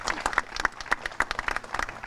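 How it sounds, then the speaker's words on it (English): Audience applause at a ribbon cutting, a brief burst of clapping from a modest crowd, with distinct individual claps in an uneven, lively patter. "Can we give them a round of applause, please?"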